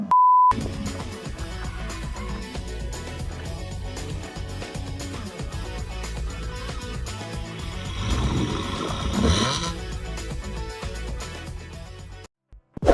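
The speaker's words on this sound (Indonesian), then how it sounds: "orang mentang-mentang bawa supercar geber-geber" A Ferrari supercar engine revs, with a rising roar that peaks near the end among a rumbling mechanical background, preceded by a short beep, and cuts off abruptly.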